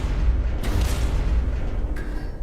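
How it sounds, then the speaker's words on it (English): Cannon fire in a video game makes a deep, rumbling boom with two sharp blasts, one early and one near the end, over a loud low roar with no talking. "Why are you waking me up with explosions?"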